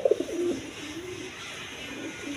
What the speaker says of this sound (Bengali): এইখানে এক পেয়ার আপনার গররা কবুতর আছে, রেড কালার গররা কবুতর